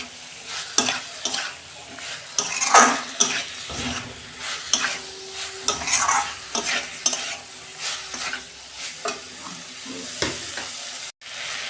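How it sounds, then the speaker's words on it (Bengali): Food being sautéed in a hot pan, with a constant sizzle under repeated close scraping and stirring strokes of a spatula, irregular in rhythm and fairly loud, no talking. "একটু আমি ভালো করে কষে নেবো।"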